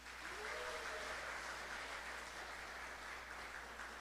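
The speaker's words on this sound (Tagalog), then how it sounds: "pumalakpak po muna tayong lahat" Seminar audience clapping together before a session begins, a faint, even wash of many hands heard at a distance, steady throughout with a faint tone briefly audible early on.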